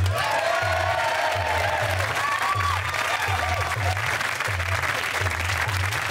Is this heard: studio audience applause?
yes